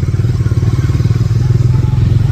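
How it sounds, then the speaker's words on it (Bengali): Motorcycle ride along the road near a forest resort in Jhargram, with a loud, close engine thrumming at a steady rapid pulse throughout and a faint voice briefly audible under it. "আমরা ঘুরতে বেরিয়ে গেছি বাইক নিয়ে"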